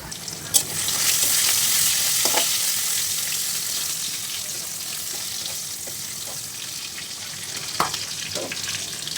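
Garlic, onion and green chili fry in hot oil in a kadai, giving a steady close sizzle broken by a few sharp clinks of a stirring utensil.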